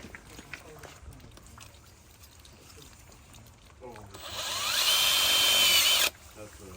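A power drill drives a 1.5-inch screw at an angle while installing a gutter protection system, whirring loudly for about two seconds near the end, after a stretch of background noise and faint voices.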